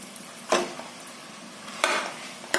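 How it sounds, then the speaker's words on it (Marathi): Cooked rice with pumpkin in ghee is stirred in a pan over low heat, with three distinct scraping strokes of a spoon against the pan separated by quiet pauses, close by and with no talking. "मंद आचेवर भात सुद्धा छानसं परतून घ्यायचं."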